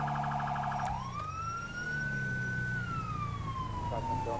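An emergency siren wails from an ambulance in the video game GTA 5, one long rising and falling tone that dominates the clip, with a low vehicle hum beneath it.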